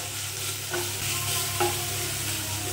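Greens sizzle and hiss steadily in a hot pan, with a couple of brief scraping stirs, close up and without any voices.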